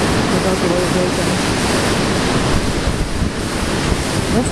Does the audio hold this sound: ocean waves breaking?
yes